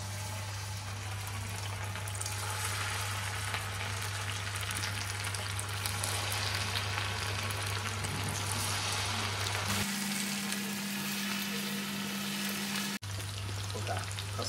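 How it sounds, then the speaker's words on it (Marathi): Chicken pakoras fry in hot oil, a steady close-up sizzle and crackle with a low hum running beneath, continuous with no talking. "आता पकोडे आपले तळून होणार आहेत"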